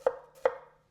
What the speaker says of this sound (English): using the back section for the push chops.